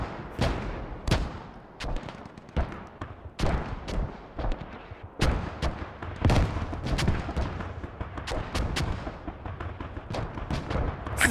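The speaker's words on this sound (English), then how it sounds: "a lot of guys are still getting mortared down on the northwest side" Mortar fire and explosions in the Squad video game, a dense stream of sharp blasts and booming impacts at varying distances, some loud and close, layered over a constant rumbling battlefield din.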